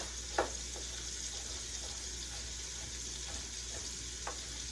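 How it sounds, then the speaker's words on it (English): A pot of one-pot sausage pasta simmers with a faint steady sizzle and hiss, while a utensil stirs through it in a few soft scraping sweeps. "Let me go ahead and just get this stirred up a bit."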